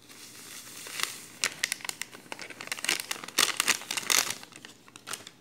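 A Mr. Gulaman gelatin packet is torn open and its powder added for milo biscuit pudding, giving a run of close crinkling and crackling plastic rustles in irregular bursts, with no talk.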